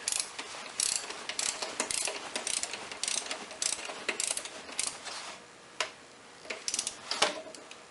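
A torque wrench ratchets a 15 mm bolt during an oil pan gasket job on a Ford Contour, producing close, irregular bursts of sharp ratchet clicks with brief pauses between strokes.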